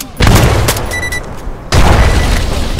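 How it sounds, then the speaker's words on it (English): A grenade goes off in a military video game firefight, two heavy booming blasts close and loud, with gunfire crackling between them. "I'm gonna take it out with a grenade."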